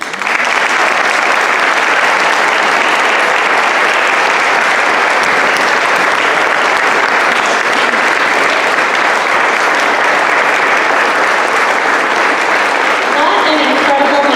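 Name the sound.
audience applause at Veterans Day ceremony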